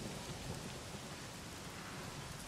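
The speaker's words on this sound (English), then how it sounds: "When that thunder does that, I shouldn't be able to be spotted" Thunder and steady rain in the video game Days Gone, a faint, dense, continuous rumbling wash of rainfall with low thunder underneath, no voices.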